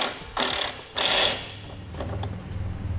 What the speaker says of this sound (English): Rotate the horn outwards about 90 degrees and tighten down the bolt.